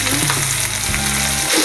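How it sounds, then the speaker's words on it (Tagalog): Cooked rice hitting melted butter in a hot pan, a steady loud sizzle and crackle running throughout, no talking. "Pag napuno na yung butter, lagay na natin yung kanin natin."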